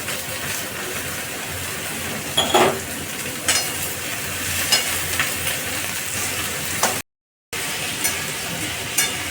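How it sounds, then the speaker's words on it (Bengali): Eggplant frying in a pan with green chillies for a poppy-seed and lentil-dumpling curry: a close, steady sizzle with several sharp clacks of a stirring utensil against the pan. "বেগুনগুলোকে দিয়ে আমি খুব ভালোভাবে ভেজে নেব"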